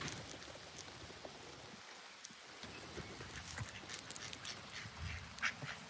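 Ducks quack steadily around a person, a busy, fairly faint flock calling over constant outdoor background noise, with scattered nearer quacks throughout.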